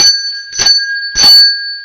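A handheld bell gives two bright, ringing dings about half a second apart, loud and close, each leaving a sustained metallic tone that lingers between strikes.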